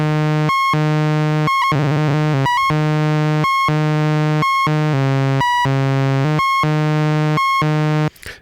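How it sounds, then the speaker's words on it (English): A steady Dubreq Stylophone Gen R-8 synthesizer tone that pulses in regular on-off bursts from a pulse-wave LFO, with a thin, buzzy character, repeating evenly for several seconds before cutting off. "And then a pulse wave,"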